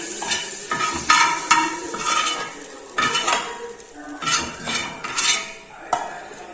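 A spoon scrapes and clinks against bowls while pizza topping mix with capsicum is moved into another bowl. Sharp metallic strokes come in uneven bursts, close by, with no talking.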